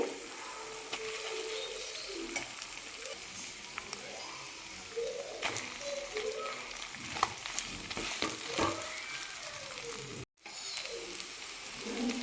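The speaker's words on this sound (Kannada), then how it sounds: "ಅನ್ನ ಹಾಕಿ ಮಿಕ್ಸ್ ಮಾಡ್ಕೊಳ್ತೀನಿ" Rice being mixed into an egg masala with turmeric in a pan, soft sizzling under repeated scraping and stirring strokes, close by, with a brief gap near the end.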